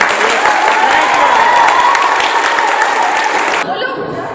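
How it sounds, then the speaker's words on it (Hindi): An audience at a hospital welcome event gives loud applause for nursing staff honoured as corona warriors, a dense, sustained clatter of many hands that cuts off abruptly near the end, leaving quieter room sound. "इनके लिए एक बार जोरदार तालियां।"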